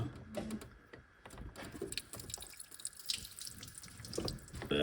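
Coolant drips and trickles from a disconnected heater hose on a Volvo 940 Turbo, making faint, close, irregular splashes and patters alongside light handling clatter.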